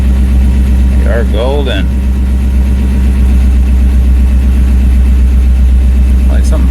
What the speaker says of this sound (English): First fire up with the new alternator.